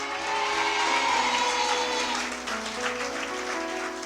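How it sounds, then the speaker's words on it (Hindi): A congregation applauds during a Hindi church sermon, a steady, dense wash of clapping lasting several seconds with sustained musical tones beneath it. "जिन्हें समझ आई उन्होंने ताली बजाई है"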